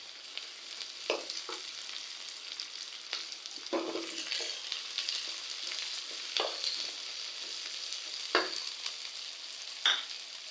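Curry leaves and green chillies frying in oil for a village-style chicken curry, a continuous sizzle punctuated by several sharp stirring scrapes and pops, close up with no voices.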